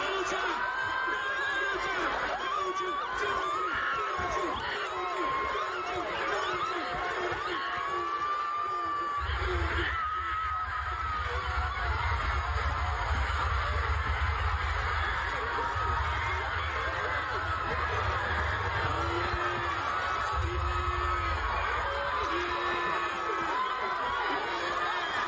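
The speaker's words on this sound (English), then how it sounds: "The video of this crowd going crazy when she won the gold." In St. Lucia, a large crowd at a watch party cheers an Olympic gold win with a dense, sustained roar of shouting, laughter and excited chatter that swells partway through and stays loud.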